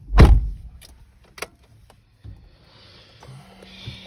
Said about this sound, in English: Please close my car door.